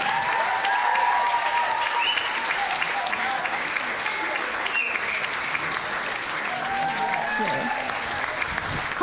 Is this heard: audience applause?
yes